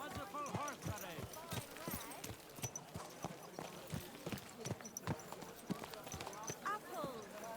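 Horse hooves clip-clop in steady rhythmic beats in the medieval video game Kingdom Come: Deliverance II, with people chattering and calling out over the clopping.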